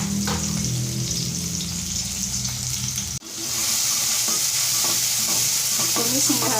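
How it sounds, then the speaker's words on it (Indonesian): Spice paste and sliced chili sauté over medium heat in a pan, sizzling loudly and steadily with continuous stirring scrapes, briefly dropping out midway before the frying noise resumes. "Tumis hingga harum"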